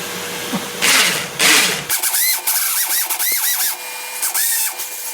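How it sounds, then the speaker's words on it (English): A power drill drilling into a ceiling whines in short bursts, revving up and down close by, after a couple of harsher grinding bursts at the start. "So if I drill over here, it should be safe."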